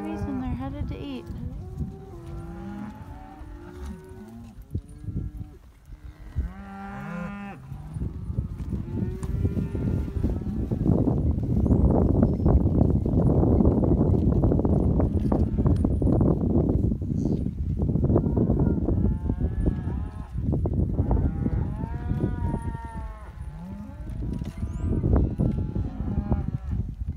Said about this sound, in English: So we have the cows on the forest now.